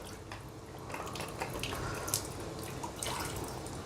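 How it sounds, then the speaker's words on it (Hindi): Water drains and drips from inside a Kangen water machine being deep cleaned, a steady close trickle with scattered drops, fairly quiet and alone. "अंदर से पानी ड्रेन कर लीजिएगा"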